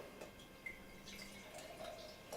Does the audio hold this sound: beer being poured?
yes